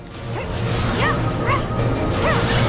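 Video game boss smashing down with a shockwave attack, a loud crashing impact amid a dense, continuous barrage of game effects with swooping tones.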